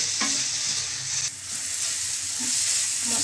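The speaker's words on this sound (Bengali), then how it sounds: "এবারে আমি ঢাকনাটা খুলে দিচ্ছি আর মশলা ভালো করে কষিয়ে নিচ্ছি" Spice masala for a Bengali egg curry is stir-fried in an uncovered pan, giving a loud, continuous sizzle broken by scraping strokes of the spoon and a brief dip in the middle.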